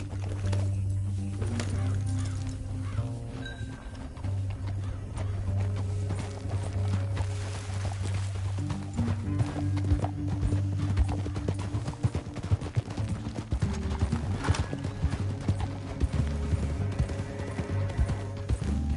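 Horse hooves clip-clop steadily in Red Dead Redemption 2 over a constant low droning background, moderately loud, with a busy mix of other game sounds layered on top.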